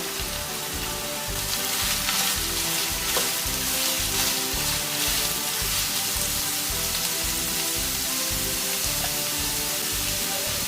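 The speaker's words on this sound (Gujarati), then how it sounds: "ડુંગળી અને ગાજરને ચારથી પાંચ મિનિટ માટે કૂક થવા દઈશું" Onion and carrot sizzle and fry in a pan for a veg hot dog stuffing, a steady close crackling hiss with occasional stirring scrapes, continuing without pause.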